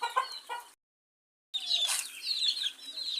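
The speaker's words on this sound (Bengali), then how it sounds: "এখানে আমার আছে কিছু দেশি মুরগির বাচ্চা" Young month-old native (deshi) chicks on a poultry farm cluck and peep in busy overlapping calls, broken by a short silent gap before the chorus resumes.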